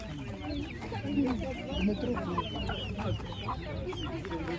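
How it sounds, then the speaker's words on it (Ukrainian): Chicks cheep and peep in a busy cluster, close by, at a market, with a faint murmur of voices in the background. "Курчата."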